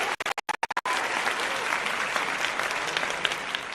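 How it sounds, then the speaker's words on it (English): Canned applause effect played on a livestream, starting after a few stuttering bursts and then running as steady, dense clapping with a faint voice over it. "let me just give you some applause"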